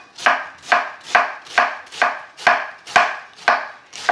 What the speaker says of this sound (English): When you hit the cutting board, you want to just give it a little bit of a forward to make sure that you cut through all the pieces